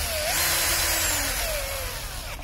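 A power screwdriver drives a screw into a STIHL FS 460 C brushcutter, with a loud, steady, high whirring motor that runs close up throughout and trails off slightly at the end.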